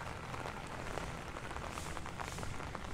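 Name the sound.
rain falling at Legoland California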